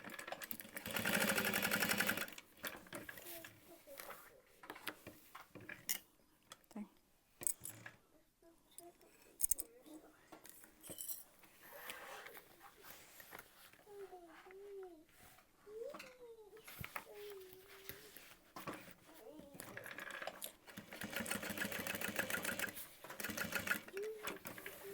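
A sewing machine bastes pieces of a backpack in bursts: rapid, near stitching runs at the start and end, with quieter handling, snipping and brief voices in between.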